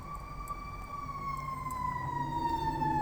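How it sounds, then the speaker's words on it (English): A fire truck siren passes through a town street. It is a steady, high wailing tone, fairly loud, over a low rumble of traffic that grows louder as the truck goes by. "you can hear the sirens, the fire truck going by"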